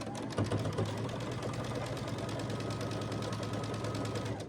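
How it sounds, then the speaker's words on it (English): A sewing machine runs continuously, stitching a quilt block together, a steady mechanical whir with a rapid, even rhythm throughout, close by and with no talking. "now we're going to sew this block together"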